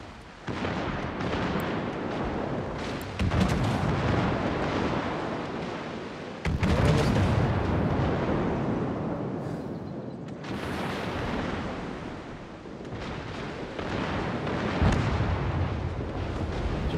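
Naval gunfire at an enemy ship in a warship video game, a run of heavy booming salvos with long rumbling roars and sharp onsets, loud and dense, layered over continuous battle noise.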